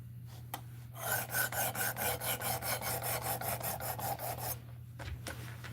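A blade is drawn over a sharpening stone in a clamped sharpening system, making a close run of about fifteen quick, even rasping strokes, preceded and followed by a few isolated scrapes over a low steady hum.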